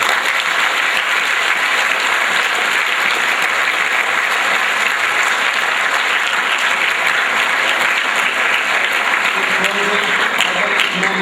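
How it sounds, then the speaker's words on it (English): A sustained round of applause fills the hall for coaches at a school sports awards ceremony, many hands clapping loudly and evenly for over ten seconds. "Please join me in a round of applause to show all the coaches our appreciation."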